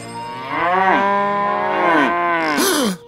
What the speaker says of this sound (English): There they are! Cows! Moo!